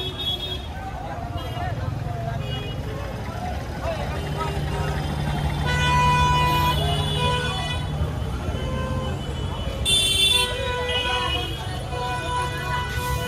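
Disorderly traffic at the crossroads by Patna railway junction, with no signals: a constant rumble of cars and other vehicles, and several horn toots rising above the drone, the loudest burst near the end.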